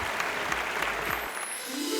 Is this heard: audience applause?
yes